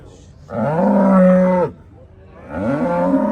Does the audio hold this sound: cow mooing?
yes